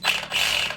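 An Arrma Senton RC car drivetrain with over-tight gear mesh gives a short, harsh mechanical whir with a ratcheting, grinding edge, close and brief, with no one talking.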